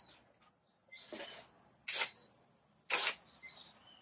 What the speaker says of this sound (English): Now I'm gonna do a test spray first.